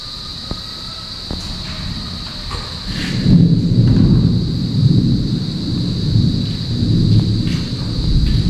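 Heavy rain pours down continuously while deep thunder rumbles and builds from the middle onward, loud and close, with a faint steady electrical tone in the background.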